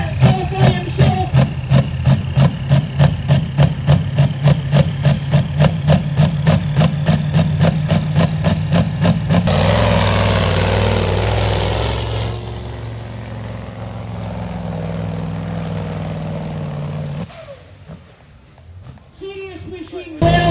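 A tractor engine idles at a Friday night tractor pull in Brechin, a steady deep rumble with regular pulsing for about ten seconds, then broader roaring noise and crowd ambience, fading near the end.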